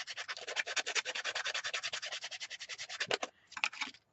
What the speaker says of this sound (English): you want to make sure you sand from the top like that and from the bottom like this